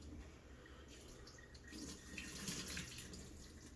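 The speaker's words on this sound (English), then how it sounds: "rinse this off a little bit" Shrimp in a small bowl are rinsed under a running kitchen tap, with a soft, steady stream of water splashing close by that swells slightly louder partway through.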